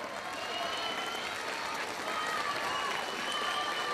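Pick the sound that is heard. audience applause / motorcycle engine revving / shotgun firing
audience applause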